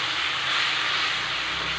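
Onions frying with masala in a pan for homemade pav bhaji give off a steady, even sizzling hiss, close and continuous with no talk.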